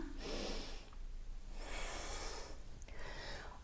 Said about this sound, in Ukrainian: Вдих і видих.